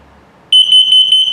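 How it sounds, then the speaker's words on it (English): An RV's LP and carbon monoxide detector in test mode sounds a loud, high electronic alarm: a sudden steady tone pulsing in about eight quick beeps, close and alone. "First it'll check for LP, then carbon monoxide, then it'll show you the low battery will beep 4 times, very slowly."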